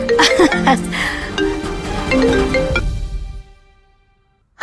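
A mobile phone ringtone plays a loud, bright melodic tune for about three seconds and then fades away, heard indoors in a family home.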